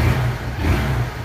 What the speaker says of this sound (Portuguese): Vou ligar a moto de novo